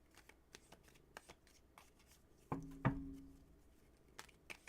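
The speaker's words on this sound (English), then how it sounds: "Let me shuffle." Tarot cards are shuffled in short soft riffles and taps, faint and close, with one longer, louder riffle burst near the middle amid a quiet room.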